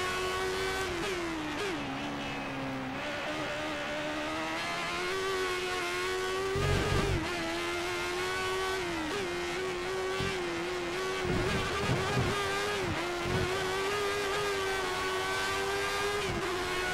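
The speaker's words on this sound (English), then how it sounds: "the engine runs just fine" A 1988-era F1 car engine in the F1 2013 game mod at the German Grand Prix, a steady high-pitched drone whose pitch dips and climbs through gear changes, with a few brief bumps and no talk.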